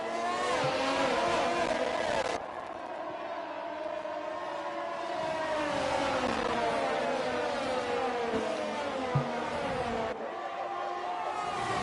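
Formula 1 race cars in a racing video game scream through a chicance, with high-pitched engine whine sweeping up and down as cars brake and accelerate, fairly steady and loud, with commentary speech faintly underneath.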